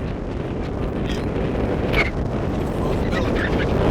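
Strong wind buffeting the microphone outdoors, a steady low rumble throughout, with a voice faintly heard beneath it.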